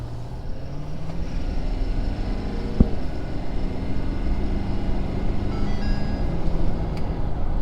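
2017 Ford F250 Powerstroke diesel pickup pulling out and accelerating on a stock tune, a loud, sustained engine drone building steadily close to the microphone, with gear-change shifts in pitch and no talk.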